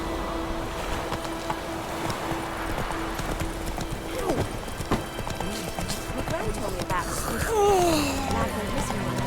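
Horse hooves clip-clop at a steady gallop in The Witcher 3 around White Orchard, a continuous rhythmic beat under ambient wind and game sound, ending with a brief whinny.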